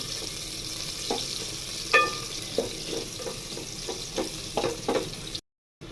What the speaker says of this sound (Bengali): দিলাম পোলাওর জন্য তেল এই তেলে আমি পেঁয়াজ বেরেস্তাটা ভেজে নিয়েছিলাম দিয়ে দেবো পেঁয়াজ ভেজে নিব পেঁয়াজটাকে